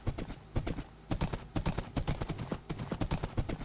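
Horse hooves clip-clop steadily in a video game, a close, even rhythm of hoofbeats as the horse travels along a mountain tunnel path, with no talk over them.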